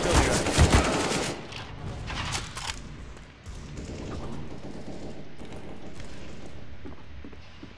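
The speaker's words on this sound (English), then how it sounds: "Stop shooting!" Dense automatic gunfire in Counter-Strike: Global Offensive running on Linux, loud and rapid at the start, then continuing in quieter, steady bursts.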